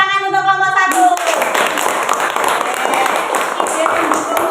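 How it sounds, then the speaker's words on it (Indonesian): A classroom of students claps for group 1 after a brief spoken voice, breaking into a steady, lively round of many hands applauding nearby that carries on to the end. "Tepuk tangan untuk kelompok 1."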